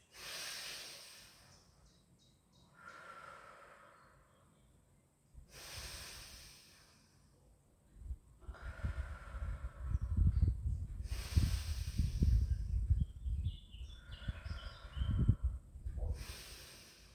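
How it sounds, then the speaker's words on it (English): Deep, slow breathing during a Pilates stretch, heard as four or five long, close hissing inhales and exhales, later with low rumbling underneath. "Take 4 big breaths."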